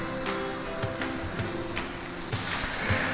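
A banana mixture fries and sizzles in a pan with a steady crackling hiss, while a spoon stirs it and scrapes with soft, regular strokes.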